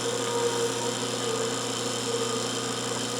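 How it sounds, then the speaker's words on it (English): A drill on a small index-plate rig boring holes in a collet for a mandrel gives off a steady, even motor whine with a low hum beneath it. The sound holds constant, with no pauses or changes in pitch. "drill our hole."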